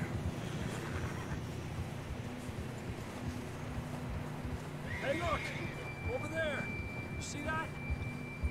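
Horses in Red Dead Redemption 2 neigh and whinny a few times over steady wind and clopping hooves, with voices talking in the background.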